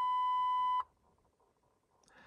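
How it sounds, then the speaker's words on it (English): A single sustained electronic beep from a transmission brake device being set up, loud and steady for nearly a second, then quiet room noise with a faint rustle at the end. "Man, really sorry about the beeping"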